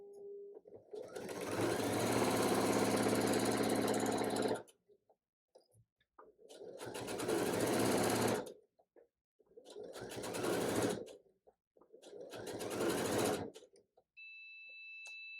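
A sewing machine stitches a quilt block in four long runs separated by pauses, the first run the longest, with a steady close whirring hum and a brief faint beep at the end.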